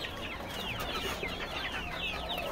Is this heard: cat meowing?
no